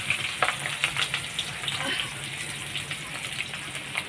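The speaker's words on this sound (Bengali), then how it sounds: "জিরেটা ফোড়ন দিয়ে দিলাম, আর এদিকে আমি সব আলুগুলো দিয়ে দেবো" Potatoes dropped into hot oil after a cumin tempering, a steady close frying hiss with crackling bursts and a few scraping stirs.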